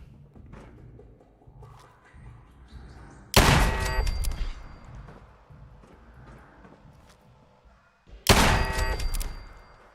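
Automated turrets in Fallout 4 fire two loud, close bursts of rapid gunfire several seconds apart, with quieter game clatter in between.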